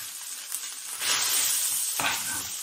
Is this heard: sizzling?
yes